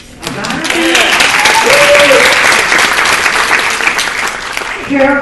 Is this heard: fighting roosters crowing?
no